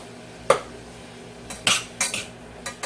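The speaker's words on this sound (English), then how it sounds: "So now we're gonna put the green beans in" Green beans are tipped into a pan of softened onions, bringing a handful of sharp metallic clinks and scrapes of a utensil against the cookware, spaced irregularly over a quiet background.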